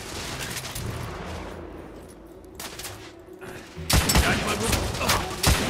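Gunfire in The Order: 1886, a video game: a dense rapid volley of loud shots and impacts breaks out after a quieter, rumbling stretch, with a short spoken line over it.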